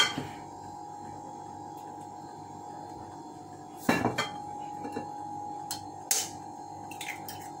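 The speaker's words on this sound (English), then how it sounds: "now I'll be busting the egg in separate bowl" Eggs cracked one at a time into a separate bowl while making Guyanese black cake: a few sharp taps and clinks against the bowl, the loudest near the middle, over a quiet steady room hum.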